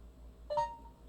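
A phone gives off a couple of short, faint electronic beeps in a quiet room, a clipped tone followed a moment later by a brief second chirp, with no voices heard.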